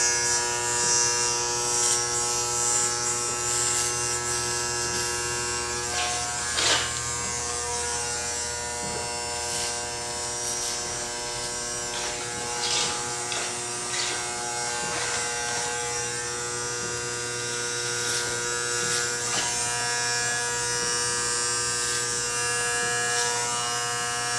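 Electric hair clippers buzz steadily throughout a military side-part fade haircut, a close, continuous tonal drone with slight wavering as the blade moves, with no talking over it.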